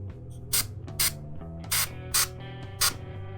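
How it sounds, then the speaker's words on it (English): An airbrush sprays paint onto a Fulgrim armour model in five short, sharp hissing bursts spaced about half a second apart, over a low, constant mechanical hum. "the airbrushing is done here"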